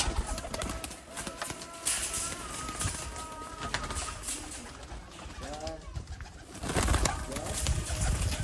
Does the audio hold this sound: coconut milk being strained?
no